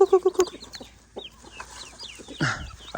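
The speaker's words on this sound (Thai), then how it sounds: "เสียงไก่" Chickens cluck in a quick burst at the start, then scattered clucks and chirps follow nearby, with a brief rustling noise near the end.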